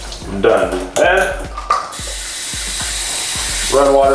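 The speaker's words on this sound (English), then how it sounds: "run water through the entire thing." Water runs and splashes through CPAP tubing in bursts, with sputtering gurgles and a rapid series of clicks, then a steadier hiss of flow.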